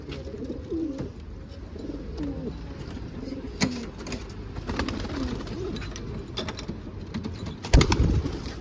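Pigeons coo repeatedly in low, throaty warbles over a steady background, with occasional clicks and rustles nearby.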